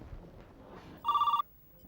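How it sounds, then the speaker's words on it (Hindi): A telephone bell rings in one short burst of rapid trilling strokes, loud and close in a quiet indoor room. "सर, फ़ोन की घंटी बज रही है।"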